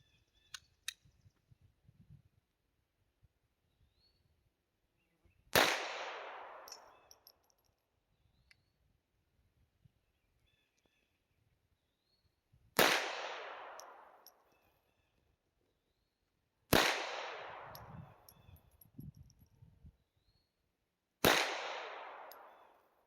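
A Sig P322 pistol fires at a shooting range, four sharp, loud cracks spaced several seconds apart, each with a brief echoing tail, over quiet background with faint rustling between shots.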